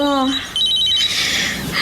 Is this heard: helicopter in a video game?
no